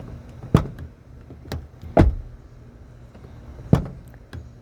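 A Toyota Corolla Cross XSE hybrid car door opens and shuts several times, each closing landing as a sharp, solid clunk with quieter handling noises between, close up and with no talk.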